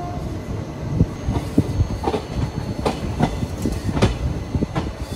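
A passenger train runs on rails near Rajaji Tiger Reserve, heard from inside the carriage: a steady rumbling roar with repeated clickety-clack wheel beats over the rail joints, close and loud.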